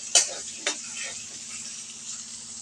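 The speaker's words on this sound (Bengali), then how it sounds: "একটু হলুদ এবং লবণ দিয়ে ভেজে নেব" Potatoes frying in a pan with salt and turmeric give a soft, steady sizzling hiss, broken near the start by two sharp clinks of a utensil against the pan.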